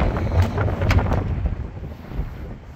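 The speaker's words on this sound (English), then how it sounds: "As you can see, as you can hear, the wind is blowing." Wind roars and buffets against the microphone in a steady low rumble, gusting louder early on and easing slightly toward the end.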